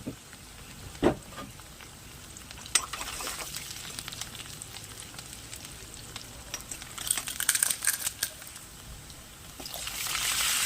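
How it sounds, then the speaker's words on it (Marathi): Onion sautéing in a pan for a cabbage bhaji, a steady broadband sizzle with a few sharp stirring scrapes and clinks, building to a louder hiss near the end. "कांदा लाल होईपर्यंत परतून घ्यायचा छान मस्तपैकी"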